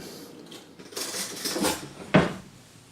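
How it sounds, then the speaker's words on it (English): Beef short ribs are stirred in a slow cooker pot after long cooking, giving a brief shuffle of utensil against pot and a single louder clunk near the end, close and alone. "I'm going to give the short ribs a stir here"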